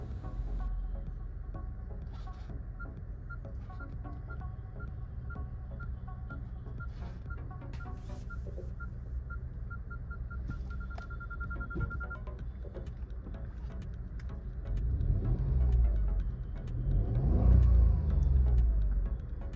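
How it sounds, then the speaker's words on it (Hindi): A 2024 Maruti Suzuki Swift ZXi engine idles with a low steady hum while its parking sensor emits a series of short repeating electronic beeps in reverse, then the engine revs louder near the end. "तो अपने इंजन की साउंड और जो पार्किंग सेंसर की साउंड है दोनों आपने देख ली"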